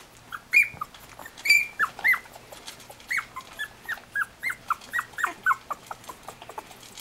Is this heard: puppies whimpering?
yes